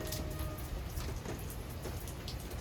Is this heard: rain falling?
yes